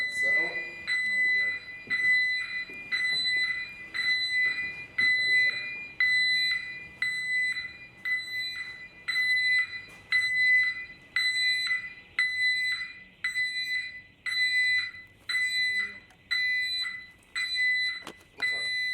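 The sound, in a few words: fire alarm going off in abandoned leisure centre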